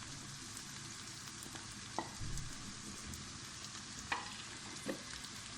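Okra, onion and fried potatoes stirred together in a pan, a soft steady sizzle with a few scraping knocks of the spoon against the pan, close but fairly quiet.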